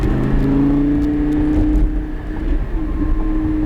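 A car accelerates through a left turn on a cone course, its engine humming steadily and close, with a brief dip and then a renewed rise in pitch as it pulls through the bend.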